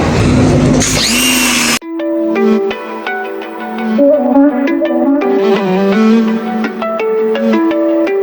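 A pressure washer sprays an Opel Astra F Ecotec engine in a loud, hissing burst lasting under two seconds, then cuts off and melodic music with singing takes over.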